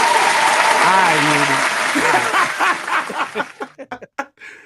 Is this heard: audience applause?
yes